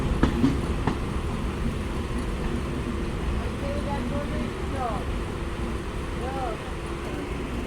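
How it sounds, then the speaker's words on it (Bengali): The Benapole Express pulls out of Jhikargachha railway station, a steady rumble of rolling wagons with faint clicks and distant squeals, heard from on board. "ঝিকরগাছা রেলওয়ে স্টেশনে আমাদের ট্রেন তার নির্ধারিত যাত্রা বিরতি শেষ করে এখন ডিপার্চার নিচ্ছে ঝিকরগাছা রেলওয়ে স্টেশন থেকে"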